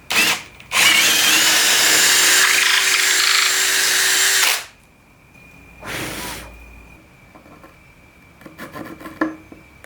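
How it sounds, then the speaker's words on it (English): A power drill with a larger bit whines loudly and steadily for several seconds, then stops; a brief second burst follows, with faint clicks and handling noises afterward. "I'm going to go in with a larger drill bit again."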